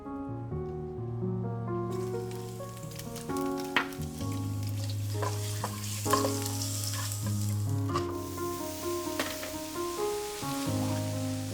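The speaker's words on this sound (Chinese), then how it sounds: "你好像很会炒菜啊。" Food is stir-fried in a pan in a home kitchen, with a steady sizzle under repeated sharp clicks and scrapes of a spatula against the pan, up close and without speech.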